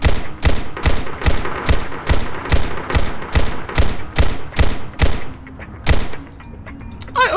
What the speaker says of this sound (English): I'm over here shooting BB bullets inside this, bro. I'm over here shooting paintball pellets.